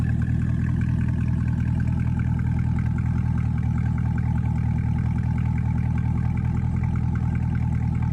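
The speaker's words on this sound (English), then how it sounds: "A couple clips of the CT5 v Blackwing, the top edition." A Cadillac CT5-V Blackwing, the top edition, rumbles at a steady idle, its deep exhaust drone constant and close with no revving.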